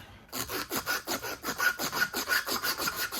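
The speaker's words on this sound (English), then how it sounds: "Got some 80 grit sanding strips that come on a roll" Rhythmic back-and-forth abrasive rasping of 80-grit sanding strips on wood while shaping a knife, close and steady, about three strokes per second.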